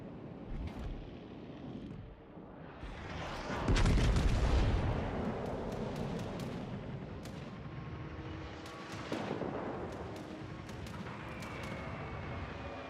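High-explosive shells fired from warship guns in a naval battle game, a few deep booming salvos with long rumbling tails and a heavy blast near the middle, set against steady ambient rumble and no voices.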